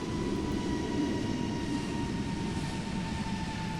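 A Delta Airlines 767 in Microsoft Flight Simulator 2020 gives off a steady, broad jet engine roar with a faint whine on top, constant and unbroken throughout, with no voices.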